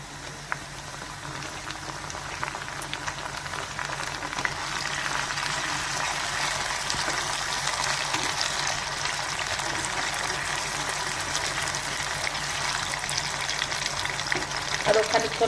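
Chopped tomatoes fry with mutton liver in a Bengali kosha masala while being stirred, a steady, close bubbling sizzle running unbroken throughout with faint scraping.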